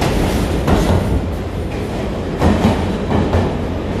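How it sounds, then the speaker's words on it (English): An NYC subway R46 train passes on the N/W lines, loud and close, with steady rumbling and rhythmic clickety-clack of wheels over rail joints. It continues throughout without talk. "Two R46 trains."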